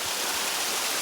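Ice-cold stream water rushes in the Nathiya Gali rain forest, a loud, dense, unbroken hiss of flowing water close by, with no other sounds standing out.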